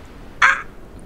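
A voice imitates a crow's caw during a fantasy tabletop role-play session, giving one short, loud, harsh croak that stands out clearly against a quiet background.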